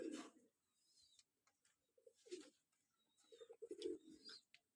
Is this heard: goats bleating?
no